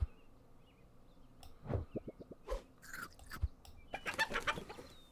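Chicken clucks from the Super Auto Pets video game, a series of short clucking and pecking sounds with small chirps, close and moderately loud over quiet background.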